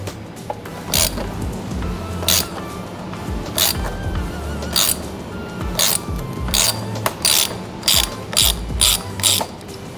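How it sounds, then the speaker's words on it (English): A 6 mm hex key is twisted by hand to draw a hole punch through a BMW F30/F80 plastic bumper, making a side-camera hole: close, steady ratcheting clicks in bursts, with repeated sharp pawl snaps and no talking. "I'm going to take a 6 millimeter hex and just carefully twist it. And it's going to pull the punch through the bumper"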